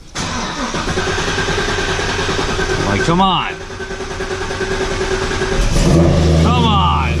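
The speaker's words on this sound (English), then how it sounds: "So it still takes forever to start though." A car with its stock General Motors engine cranks slowly and grinds on starting, loud and close, then catches and revs up, its pitch climbing. A person talks over the cranking.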